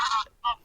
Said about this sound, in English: Excuse the geese, a bit noisy today,